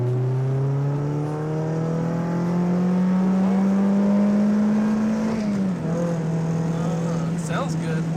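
A Mazda Miata engine hums and climbs in pitch as it accelerates, drops after a gear shift, then keeps pulling; a voice talks over it.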